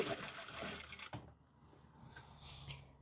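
A sewing machine stitches a French seam on a lined muslin dress, running in one busy, fairly close burst of about a second before dropping to a quiet hum and faint handling noise.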